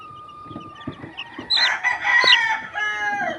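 Hens cluck nearby, then a rooster lets out a loud crow that rises and trails off, followed by more clucking.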